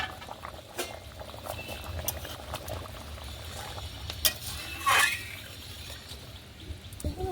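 A pot of goat head curry cooked with young jackfruit simmers on a village stove, with a brief metallic clink as the lid comes off and soft bubbling and hissing continuing quietly throughout.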